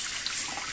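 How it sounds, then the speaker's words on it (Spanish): A bonito fish is rinsed under a running kitchen tap, a steady close hiss of water splashing in a brief, continuous burst. "Ahora lo lavamos bien bajo el grifo."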